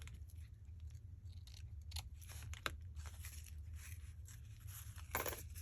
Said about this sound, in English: So let's cut that.